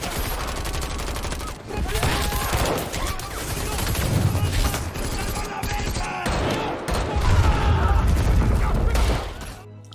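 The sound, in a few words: gunfire, hail of bullets in an action film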